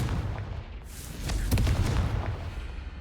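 A Confringo blasting spell explodes in the Hogwarts Legacy video game. A rumbling boom builds, then sharper crackling bursts follow, loud and close, with no talk.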